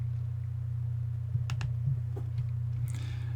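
A computer mouse clicks through a Node.js setup dialog. Several light, sparse clicks in quick succession sit over a steady low electrical hum, with no talking.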